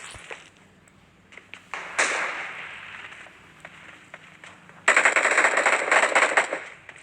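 Rapid automatic gunfire in the battle-royale video game BGMI comes in two loud bursts, separated by scattered single shots and taps.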